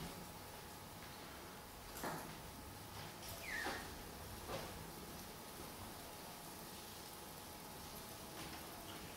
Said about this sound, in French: je demanderai peut-être que l'on ferme la fenêtre parce que sinon on va entendre la pluie